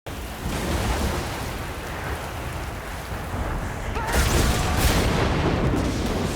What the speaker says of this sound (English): And this whole storm is scary.